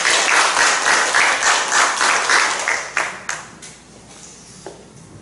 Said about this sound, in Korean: 박수로 보내주시기 바랍니다.